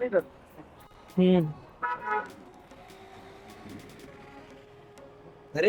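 An auto rickshaw horn gives short, close toots in a street scene, spread out among bursts of people talking.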